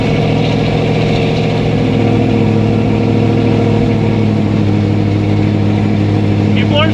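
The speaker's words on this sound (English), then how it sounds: "It is definitely loud in the car though." Loud, steady engine drone of a 1964 Chevy II heard from inside the car while driving, a low rumbling hum running continuously throughout.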